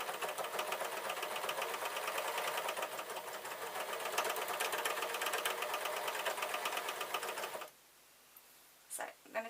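Sewing machine with a cutter (serger-style) stitching fabric for yoga trousers runs loud and steady with a fast mechanical whir and chatter, then stops abruptly near the end, followed by a couple of faint handling clicks.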